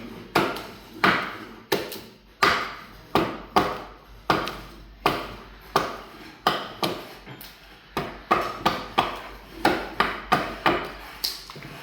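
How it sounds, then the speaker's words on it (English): An axe chopping wood while carving a wooden spoon from birch or silky oak, a steady series of sharp, close chops about once a second, each ringing briefly, with no talk. "Birch itself can be a little sticky to axe out, like you'll find your axe kind of sticks a little bit"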